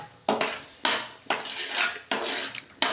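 Besan (gram flour) stirred in a pan on a gas burner with a ladle, producing close, scraping strokes of metal against the pan, about five rhythmic passes, each a rough swish.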